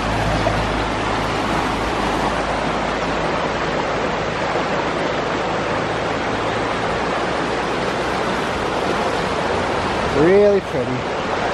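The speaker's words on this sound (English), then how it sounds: "Taking a walk across a little brook" A small brook in the Great Smoky Mountains flows with a constant broadband rush of water, close and steady, while a brief voice is heard near the end.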